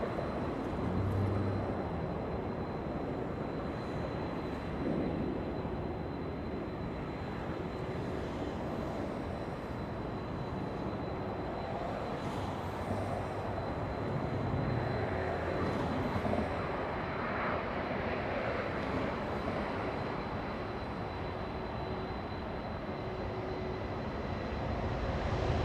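A Finnair Airbus A350-900 jet at Los Angeles International Airport makes a faint, distant, steady broadband roar that holds throughout.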